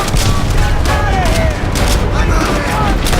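Loud, continuous bursts of gunfire and booming explosions from Call of Duty: World at War crowd together, with voices mixed into the din.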